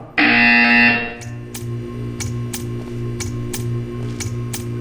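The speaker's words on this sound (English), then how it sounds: "You will hear a buzzer." A loud harsh buzzer in the Portal 2 video game blares for about a second, then gives way to a steady series of rhythmic clicks and thumps over a low mechanical hum.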